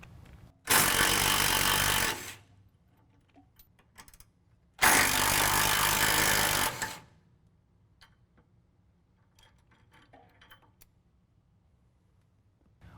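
Two loud bursts of a power tool, such as an impact wrench, each lasting about one and a half to two seconds, remove the jounce bumper on a truck, with quiet clicks and small handling sounds between and after them.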